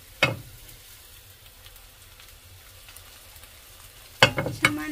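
Korean egg roll frying in oil in a pan: a faint low sizzle runs under two sharp, loud utensil scrapes or clacks, one at the start and a cluster near the end.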